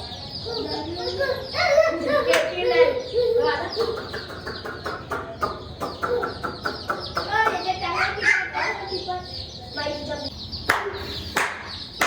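Chickens cluck nearby in short repeated bursts around a morning yard, mixed with people talking and several sharp clacks and knocks.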